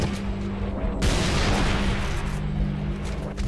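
Gunfire in the video game Halo Reach, a dense, continuous burst of shots that swells after the first second and rumbles on loudly with a steady in-game hum underneath.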